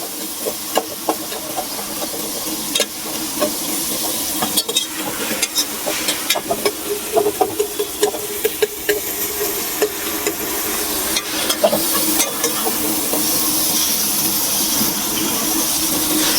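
Broad beans and potato pieces fry in a pan with a steady loud sizzle and hiss, broken by repeated scraping and clinking stir strokes, close and without talk.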